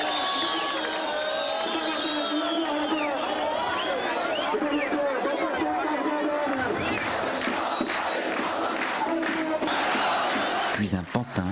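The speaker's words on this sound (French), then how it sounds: "Sous les cris de joie et les huées de la foule, les portraits du dictateur sont brûlés." A large crowd at a Syrian rally shouts, cheers and boos while portraits of the dictator burn, a sustained roar of many voices with rising whoops and a burst of commotion near the end.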